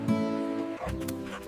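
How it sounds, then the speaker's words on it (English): A dog in a park gives short yips and whimpering barks, close and fairly loud, with a human voice overlapping briefly. "Look at the dog."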